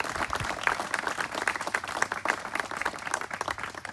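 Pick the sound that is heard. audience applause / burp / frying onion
audience applause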